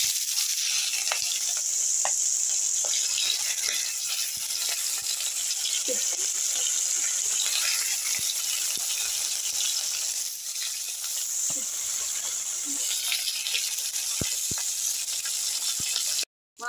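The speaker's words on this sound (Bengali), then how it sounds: "তেল গরম হয়ে গেছে, এরপর আমি একে একে মাছের পিসগুলো দিয়ে দেবো তেলে।" Fish pieces fry in hot salted oil in a home kitchen, a constant bright sizzle with scattered pops and clinks over a long stretch, cutting off abruptly at the end.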